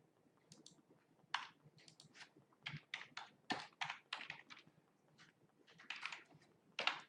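Keys tapped on a computer keyboard while entering a web address, a close, quiet run of irregular clicks in short bursts with brief pauses, no voices.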